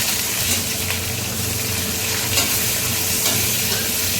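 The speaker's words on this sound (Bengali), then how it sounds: "আর এখন দিয়ে দিচ্ছি কুচনো পেঁয়াজ।" Chopped onion hits hot oil with whole garam masala for a spicy crab curry, making a loud, steady sizzle with stirring, close and continuous.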